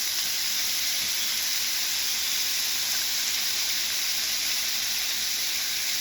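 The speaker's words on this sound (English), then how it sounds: "hear it crackling, cooking, nice sizzle." Bacon sizzles on a Steelmade flat top griddle, giving a steady, dense hiss of crackling fat that stays even and close for the whole stretch, with no voices over it.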